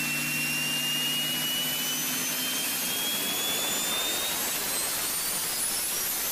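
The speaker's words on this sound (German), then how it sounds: "was man da hört, ist genau das Kreischen von dem Turbolader." A high, piercing turbocharger scream from a turbodiesel engine rising steadily in pitch over a constant roaring engine drone, loud and close, with no voices.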